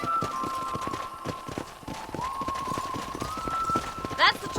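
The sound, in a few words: horses in a corral, from video game Red Dead Redemption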